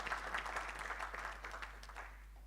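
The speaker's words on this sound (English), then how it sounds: "Please give her a round of applause" Faint, distant applause from a conference audience at a panel session of the Eswatini Green Indaba 2024, a soft patter of clapping that thins out over two and a half seconds.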